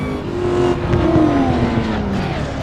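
A race car laps the Nordschleife in the Assetto Corsa racing game, its engine droning steadily and loudly with rising and falling pitch as it accelerates, no talk over it.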